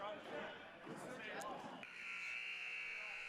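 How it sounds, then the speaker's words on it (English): A crowd murmurs and a voice talks briefly, then a loud sustained buzzer sounds at the start of a lacrosse game and holds steadily to the end. "And the buzzer sounds for the game to start"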